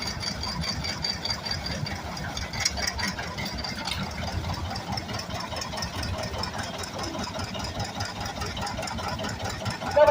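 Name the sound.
1950 John Deere Model B tractor engine running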